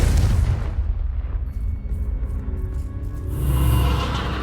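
Confringo fire spell bursts in Hogwarts Legacy, a heavy booming explosion up front that rumbles and crackles away, followed by scattered debris and a second swelling roar, loud with no talk.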